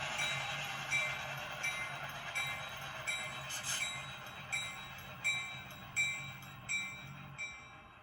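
Model railroad train rolling into a yard, a steady low running hum with regular rhythmic clicks as wheels pass rail joints, fairly close and moderately loud.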